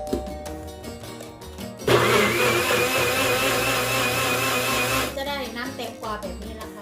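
An electric blender whirring through cucumber for a homemade toner, starting with a sudden loud surge, running steadily at high speed for a few seconds, then cutting off as someone speaks over the quieter moments before and after.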